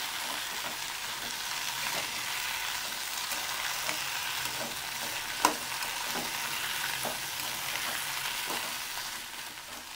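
Okra pieces fry in a hot pan with a steady crackling sizzle throughout, broken by soft scraping stirs and one sharp clink of the spatula near the middle.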